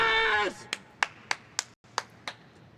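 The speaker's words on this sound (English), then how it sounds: "There's those solid Neo claps again." Steady, evenly spaced hand claps ring out in a rhythmic pattern at a Counter-Strike esports match, FaZe vs. Liquid at IEM Rio 2024, following a brief voice at the start.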